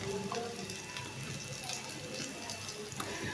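A vegetable dosa paratha fries in a pan with a soft, steady sizzle and faint crackle throughout, quiet and close, with a few light pops and no talking over it.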